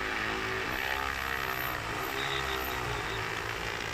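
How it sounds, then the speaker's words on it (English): A JT20L-606 drone lifts off on an automatic flight, its propellers producing a steady, loud, close whirring drone that holds without a break. "You see the drone is taking off automatically."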